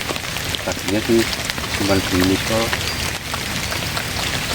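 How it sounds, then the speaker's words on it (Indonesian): Rain falling steadily outdoors during a fishing outing with a small soft frog lure, a constant close hiss of drops running under someone speaking. "Hujan harus cari tempat berteduh."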